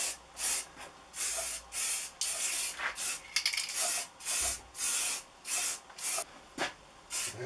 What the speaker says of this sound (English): I'm just going to add another coat of primer